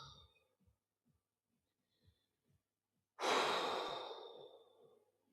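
A deep breath during a floor stretch for the upper back and shoulders, faint quiet breaths at first, then one long, close, loud exhale that slowly tapers off.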